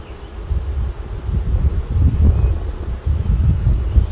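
Honeybees buzz around an open hive as a beekeeper splits a double nuc, a low, wavering drone with rising and falling swells, close to the microphone with some wind rustle.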